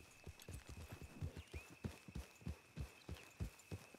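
Horse hooves clip-clop in a video game with horses, a quick, even run of close, crisp hoofbeats over a faint steady tone, with no talking.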